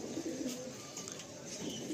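A racing pigeon coos softly in its loft, a few low murmuring calls repeating over faint room background.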